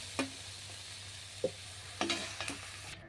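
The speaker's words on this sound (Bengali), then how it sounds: "নামানোর আগে আমি দিয়ে দিচ্ছি ধনেপাতা কুচি, দিয়ে একটু নাড়িয়ে নামিয়ে নেব।" Cauliflower filling for kachori, with chopped coriander added, is stirred in a pan on the stove: a few sharp scraping strokes spread across the stretch over a steady low hum, with no voices.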